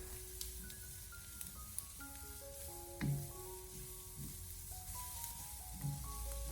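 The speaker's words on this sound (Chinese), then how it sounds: "我们将胡萝卜丝快速的翻炒1分钟左右，把胡萝卜丝炒至8分熟" Shredded carrots with wood ear mushroom and minced garlic stir-fried in a wok, a quiet steady sizzle with a few soft scraping stirs spaced through the clip.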